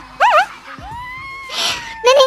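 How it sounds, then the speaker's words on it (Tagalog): A girl in a group screams with high, wavering shrieks amid excited, playful chatter and laughter, loud and close, with several voices overlapping. "Nakakatawa, sumisigaw. Sakit sa tenga niyan."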